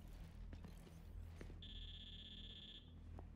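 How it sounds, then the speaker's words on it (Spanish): A console in the Gears 5 campaign gives off a steady electronic beep tone lasting about a second, set amid low in-game ambience and faint mechanical clicks. "¿Pitido de consola?"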